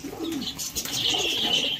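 Pigeons coo softly and steadily at a loft during bird training, a low rolling murmur under close chirps and a brief flutter, with no one talking.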